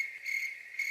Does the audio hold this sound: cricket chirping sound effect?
yes